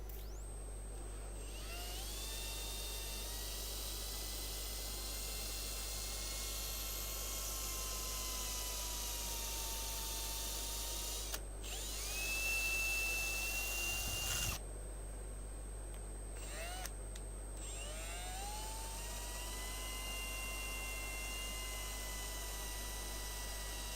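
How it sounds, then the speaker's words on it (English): A wooden piece spinning on a woodturning lathe, sanded with 400 grit sandpaper, a steady motor hum and whine with pitch shifts as the speed changes, a brief rougher scraping burst midway, continuous and close. "I'll sand it back a little bit. I do that with the 400 grit sandpaper."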